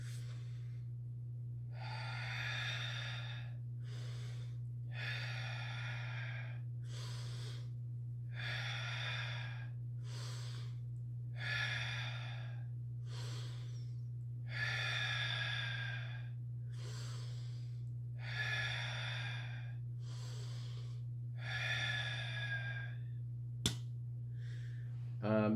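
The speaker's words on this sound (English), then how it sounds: "This was meant to be done as a hard breathing style." Hard, forceful breaths taken during a qi gong routine, about a dozen strong rhythmic inhales and exhales in steady succession, close and clear over a constant low hum, with no talking.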